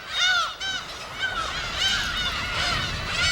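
Many seabirds call over one another on a bird island off the Korean coast where people may not land, a steady chorus of harsh honking, cawing cries rising and falling without pause, close and loud.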